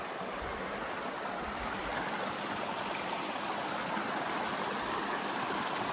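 Rushing mountain stream on a hiking trail in Moab, Utah, a steady broadband wash of flowing water close by, constant and loud with no voices over it.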